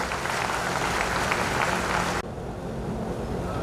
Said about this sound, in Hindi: तालियों की गड़गड़ाहट के साथ में स्वागत होना चाहिए।